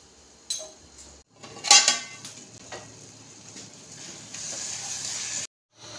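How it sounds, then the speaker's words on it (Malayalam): Metal lid set over a pot of avial for an Onam sadya, a sharp clank and rattle of metal against the vessel, then a softer scrape and steady kitchen hiss, ending abruptly, with no speech. "ഇനി ഇതൊന്ന് അടച്ചു വയ്ക്കാം."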